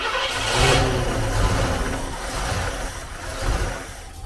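Ford Bronco engine running close by, a loud mid-pitched roar that swells in a couple of revs before settling toward a rough idle.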